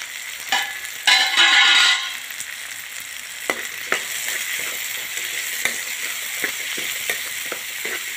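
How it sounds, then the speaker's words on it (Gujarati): Corn kernels and tomatoes fry in a hot pan for masala Maggi, a steady soft sizzle with a louder crackling burst early and scattered clicks of stirring throughout, no voices. "આને 10 મિનિટ સુધી આપણે આવી રીતે શેકવાના છે"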